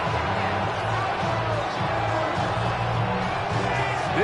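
Stadium crowd in Madden 26 roars steadily through a late-game goal-line stand against Seattle, a dense continuous wall of noise with low rumbling chants underneath.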